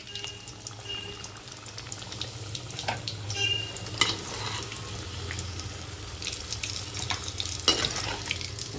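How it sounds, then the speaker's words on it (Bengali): Potatoes frying crisply in hot oil in a pan, stirred while cooking for a mutton dish: a soft, continuous sizzle with intermittent scraping and stirring, fairly quiet and close, without voices. "আলুগুলি এবার একটু ভালো করে নাড়িয়ে নিচ্ছি। আলুটা আমার কড়া করে ভাজা হয়ে গেছে।"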